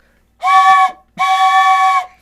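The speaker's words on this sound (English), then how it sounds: "A huge train whistle." Two loud, sustained whistle blasts sound in a row, the second slightly longer, like a train whistle.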